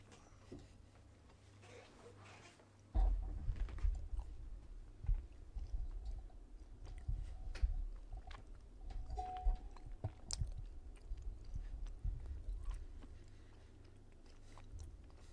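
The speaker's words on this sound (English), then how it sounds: "Pardon the chewing." A person chews food close to the microphone, with irregular crunching bites during a break in a live Vikings versus Browns football broadcast; a voice occasionally talks over it.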